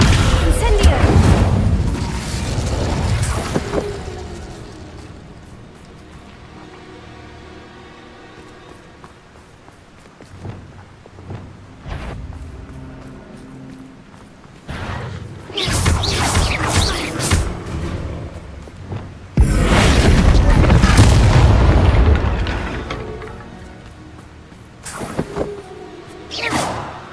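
Incendio fire spell blasts in Hogwarts Legacy, loud booming whooshes in several bursts with quieter stretches of game ambience between, and voices speaking at times.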